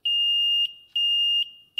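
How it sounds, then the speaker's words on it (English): A small battery-powered buzzer from Radio Shack, wired with alligator clips across two-stroke ignition points, gives two long steady high-pitched beeps and starts a third as the points close, loud and clear with no talk. "This is a little buzzer I got, again, I think at Radio Shack"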